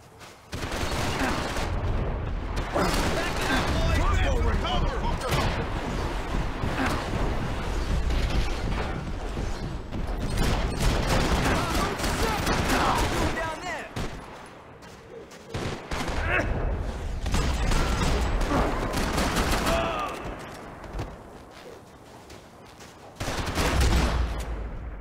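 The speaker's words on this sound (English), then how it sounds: "Gunfire over Hoboken." Heavy bursts of gunfire and explosions in the video game Max Payne 3 roll on almost continuously, loud and close, with brief lulls and a voice talking faintly underneath.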